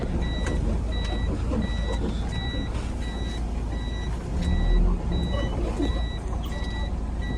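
A vehicle's reversing alarm beeps in a steady, evenly spaced pattern of high tones, with engine rumble and muffled voices in the background.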